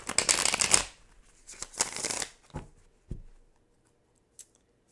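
A deck of tarot cards being shuffled close up, two crisp riffling bursts followed by a few softer taps and shuffles, with quiet pauses between them.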